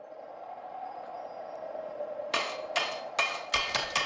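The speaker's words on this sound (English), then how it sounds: "As you hear him hammering away." In the PokéPark Wii game, Glalie hammers a brick block, first a low steady hum, then about five loud sharp hammer strikes in quick irregular succession near the end.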